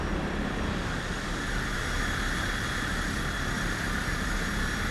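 Steady aircraft engine hum during taxiing in Microsoft Flight Simulator, a continuous broadband drone with no clear changes, loud and alone with no talking.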